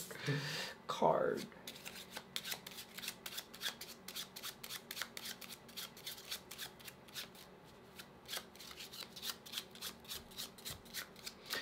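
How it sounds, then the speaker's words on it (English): Oracle cards are shuffled by hand in a long run of rapid, rhythmic riffling flicks, close and quiet, with a short burst of speech near the start. "Let's pull an oracle card."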